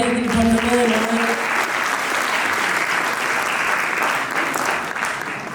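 An audience claps loudly and continuously after an open-air staging of Premchand's play Poos Ki Raat on a cold night. The dense applause fills the whole span, with a voice heard briefly at the start.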